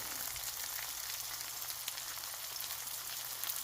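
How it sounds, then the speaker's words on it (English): Slices of pork roll cook in a frying pan with a continuous hissing sizzle and small scattered crackles, close and even throughout with no voices. "Yeah, look at that sizzle."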